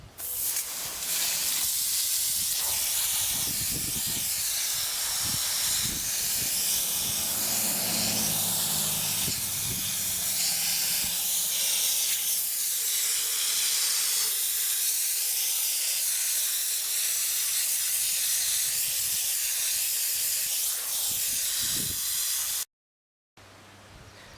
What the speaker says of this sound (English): I'm getting ready to high pressure wash this root ball